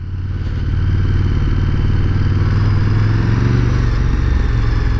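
A KTM 1290 Super Duke R motorcycle engine runs loud and close, a deep steady throbbing rumble that builds in the first second and then holds even, with no voices.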